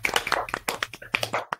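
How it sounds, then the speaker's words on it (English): A young daughter claps her hands close to the microphone, a quick irregular run of about a dozen sharp, loud claps with brief gaps between them. "That's my daughter applauding,"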